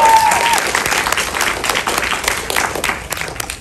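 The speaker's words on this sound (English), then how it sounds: "Whoever is clapping for me" Audience applause fills a film-festival screening of a short film at LA Shorts, a dense, steady clatter of many hands that starts loud and tapers slightly over a few seconds, with faint voices mixed in.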